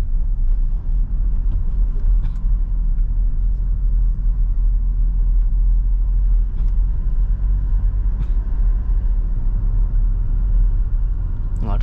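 Toyota Innova Reborn driven at night on a narrow road, its engine a steady, close low rumble inside the cabin while the car moves through the gears, with no clear break or surge.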